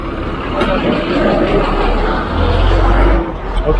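Heavy vehicle engine rumbling and pulling away on a street in Santa Ana, El Salvador, a steady low drone that swells near the end, with a person talking over it.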